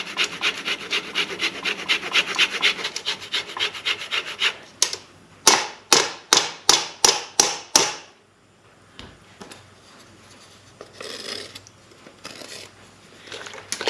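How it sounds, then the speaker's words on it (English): An orange is zested for cranberry sauce: a run of quick scraping rasps, then about seven sharp separate strokes, followed by quieter rubbing and faint handling noises, all close up with no talk. "the next thing I'm going to do is I'm going to add some orange zest"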